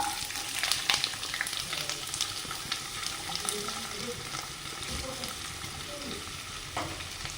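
Chopped shallots and garlic fry in coconut oil in a pan, a steady close sizzle with occasional stirring scrapes and small clinks.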